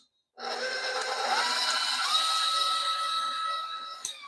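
A KitchenAid Hobart stand mixer whirs to life after a moment of silence, a steady motor drone settling into a loud, even hum with a faint clunk near the end.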